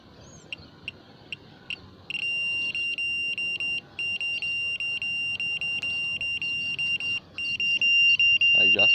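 High electronic beeps from a satellite signal meter while aiming a C-band dish, sparse at first, then rapid and near-continuous, with brief pauses and a rising tone at the end.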